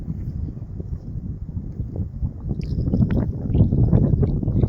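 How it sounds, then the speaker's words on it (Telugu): Strong wind gusting at Singur dam, said to reach about 100 km/h, roars as a steady, rough rumble buffeting the microphone and swelling slightly louder toward the end, with faint watery gurgles beneath. "గాలి ఆపోజిట్ కొడుతుంది, 100 కిలోమీటర్ స్పీడ్"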